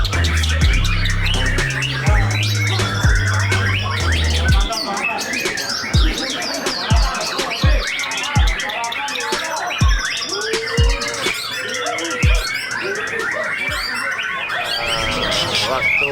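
A pet gandring songbird from Jakarta sings at a bird contest with repeated bright chirps and trills over busy crowd noise. Low electronic tones sound at the start, and a voice speaks briefly.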